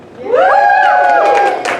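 A meeting audience cheers for a single nominee for advocate rep, with voices rising together in a loud, held whoop that lasts under two seconds and then fades.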